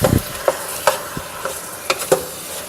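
Steak pieces for a steak and ale pie brown in a hot pan with a soft background sizzle, punctuated by about half a dozen sharp scraping and stirring knocks at uneven intervals, close by, with no talking.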